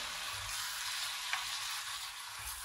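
Tortilla lasagna filling with red beans stirred in a hot pan, a continuous soft sizzle with gentle scraping from the spoon, steady and fairly quiet with no voices.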